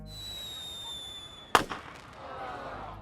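A single small firework goes off in one sharp, fairly close bang with a brief crackling tail, following a steady high whine, at an event that had announced a fireworks show.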